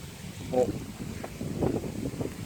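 Cold early-winter wind blows outdoors in Phutthaisong in Thailand's Isan region, gusting and buffeting the microphone with a low rushing roar while someone speaks over it.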